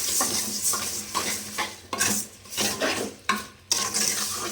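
Tomatoes stewing in a cooking pot, stirred repeatedly: a series of rough scraping strokes of a spoon against the metal, with clanks and a soft sizzle beneath, close and fairly loud.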